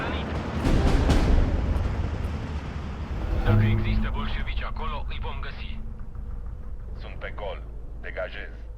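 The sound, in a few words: grenade explosion in the video game Steel Division 2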